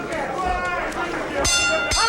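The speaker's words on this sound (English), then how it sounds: "At the bell to end round 5, the halfway point in this 10-round bantamweight bout." A boxing bell rings a couple of quick strikes to end the fifth round of a 1980s ten-round bantamweight bout, heard under continuous crowd noise and ringside commentary.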